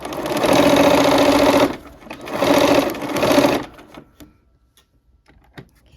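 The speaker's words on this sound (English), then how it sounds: "so let's sew that seam" A sewing machine stitches a quilt seam in two loud, steady bursts of about a second and a half each, with a short pause between, then quiet handling and faint clicks of fabric and needle.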